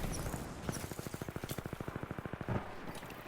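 Rapid automatic gunfire in the first-person shooter Titanfall 2, with a steady stream of close, punchy shots rattling off in quick succession for several seconds under a faint game background.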